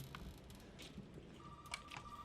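A telephone rings faintly in a tense Resident Evil 7 horror scene, a thin sustained electronic tone of about a second sounding over quiet low ambient rumble.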